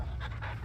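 A dog panting in Final Fantasy XVI, quick rhythmic breaths close up and steady through a short moment with no talk.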